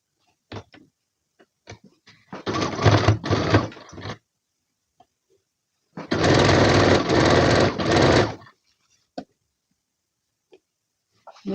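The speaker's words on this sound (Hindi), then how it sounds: "ये यहाँ से हम शुरू कर देंगे सिलाई।" A sewing machine stitches fabric for a garment in two loud mechanical bursts of rapid needle chatter, each lasting about two seconds, separated by a pause with scattered small clicks and handling noises.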